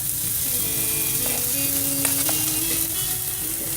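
Shrimp fried rice frying in a hot pan gives a loud, steady sizzle throughout, with faint stirring scrapes and no talk.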